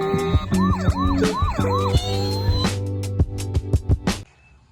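A small toy police car gives off a looping electronic siren with rising and falling wails over a steady motor hum, followed by a run of sharp beeping pulses before it cuts off, close and loud.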